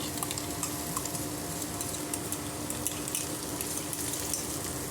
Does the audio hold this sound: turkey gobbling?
no